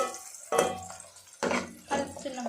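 A spoon stirs onions, chillies and tempering in a pan for upma, three distinct scraping strokes with soft sizzling between, close and fairly quiet.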